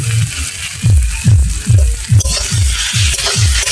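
Slit green chillies sautéing in a hot pan, a close, steady sizzle broken by a regular rhythm of stirring scrapes, roughly one every half second, with no voices.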